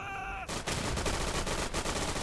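Dense, continuous bursts of gunfire in the game Day of Infamy, loud and sustained after a brief tonal sound at the start, with no talking.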